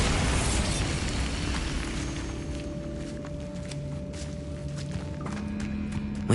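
Bombarda blasting spell in a wizard video game: a loud, dense booming burst at the start that fades into a low sustained rumble, with smaller pops and a steady tonal hum behind.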